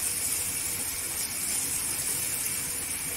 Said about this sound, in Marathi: मसाल्याला तेलावर परतायचं की मसाल्याला असं तेल सुटला पाहिजे पूर्णपणे